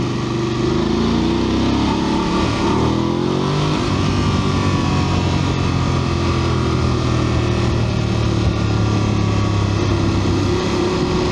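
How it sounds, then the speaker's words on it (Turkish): A VOGE DS900X motorcycle in road mode is ridden along at speed, its engine revving and rising in pitch over steady wind and road noise. The sound is loud and continuous. "motorun sesini duyun bakalım"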